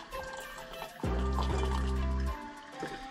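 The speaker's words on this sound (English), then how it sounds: "what I'm gonna do is I'm gonna simply just put a little bit of water" Water pours into Kruve glasses to preheat them, a steady filling gush lasting just over a second with a rising pitch as the glass fills, close and clear amid light room noise.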